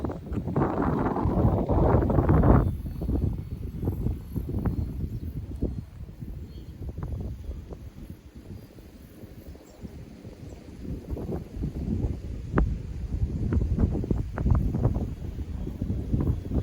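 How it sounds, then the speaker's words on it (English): Strong wind gusts buffet an outdoor microphone at a radio-controlled model airplane flying session, roaring loudly in bursts with a heavy swell at the start and more gusts later, no voices heard. "A lot of wind. Yep. A big gust there."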